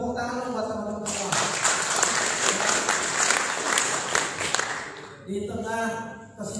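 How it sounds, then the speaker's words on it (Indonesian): A crowd applauds at a plenary meeting of a youth political organisation in Jakarta: sustained, dense clapping for about four seconds, with someone speaking over a microphone just before and after. "Tepuk tangan buat teman-teman semua."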